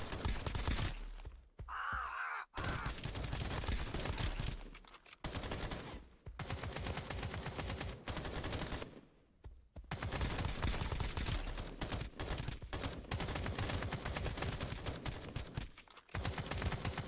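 Gunfire in Escape from Duckov, an extraction shooter: dense, loud bursts of rapid shots run almost continuously, broken by a few brief pauses, close and alone.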